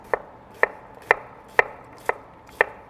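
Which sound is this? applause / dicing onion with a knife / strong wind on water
dicing onion with a knife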